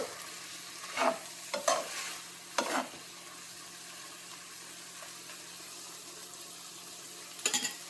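A cauliflower and green pea stir-fry is stirred in a pan, a few sharp scrapes and clatters clustered early and again at the end, over a low continuous sizzle, close and fairly quiet, with no talking.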